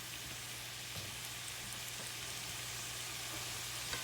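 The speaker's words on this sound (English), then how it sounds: "And now we'll just spread our meat back out and our onions." Ground beef and onions sizzling in a skillet, a steady, soft frying hiss with faint crackles and occasional stirring taps, even and unbroken for a few seconds, without talking.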